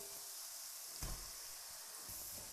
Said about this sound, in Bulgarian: Добавяме и нарязания на ситно чесън. Запържваме за около 3-4 минути на средна степен.